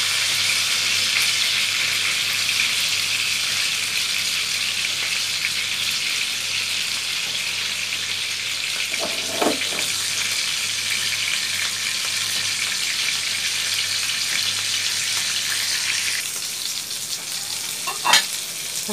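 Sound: bata fish frying in oil

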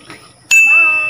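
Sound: notification bell ding sound effect

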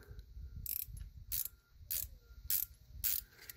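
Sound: 6mm ratcheting wrench backing out fuel screw on Cummins pump

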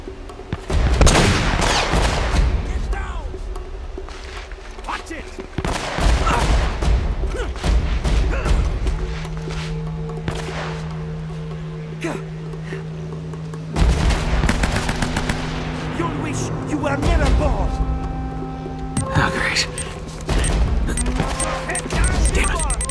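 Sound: gunfire in Uncharted: Drake's Fortune video game

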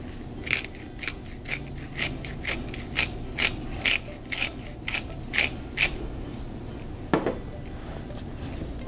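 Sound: grinding black pepper

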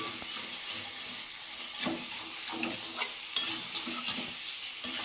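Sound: meat frying in oil in a pan

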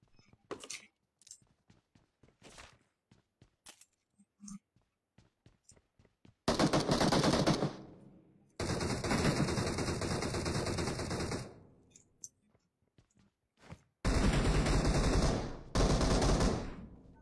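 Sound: M4 rifle gunfire in a video game

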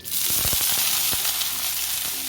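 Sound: water sprinkled on a hot non-stick tawa, sizzling

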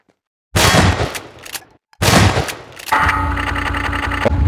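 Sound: grab gun being fired in a video game

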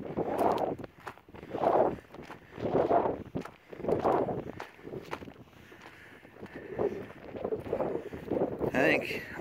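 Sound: wind blowing across an open field

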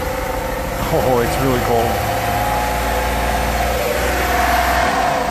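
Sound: frozen microvan engine running in cold weather

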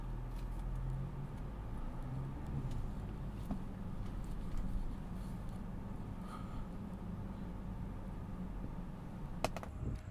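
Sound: Mini Cooper S Convertible driving off

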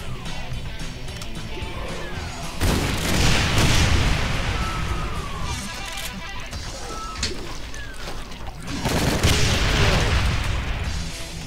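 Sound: shotgun firing in Doom mod video game

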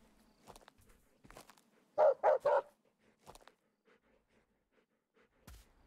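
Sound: dog barking in Animal Shelter Simulator video game

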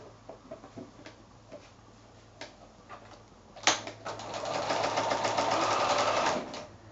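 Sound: sewing machine stitching quilt sashing strip seam

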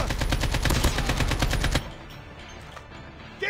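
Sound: sniper gunfire in a video game (Call of Duty)

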